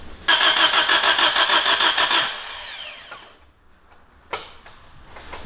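A Nissan Almera N16 engine cranks with a fast, even starter rhythm for about two seconds, then falls quiet, followed by a short sharp crank attempt and faint mechanical clicks.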